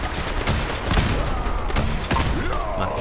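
A rocket launches and explodes amid dense combat in Fallout 4's Nuka-World, loud booming blasts and rapid gunfire crowding together with a couple of sharp impacts.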